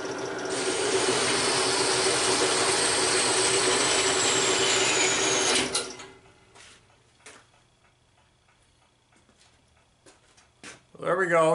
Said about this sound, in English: I'm going to move over to the bandsaw and cut off a piece of round stock.